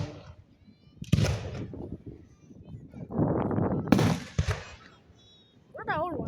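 Outdoor fireworks explode in sharp booming bursts with crackling tails, two big blasts separated by rumbling, while a person talks and exclaims between them.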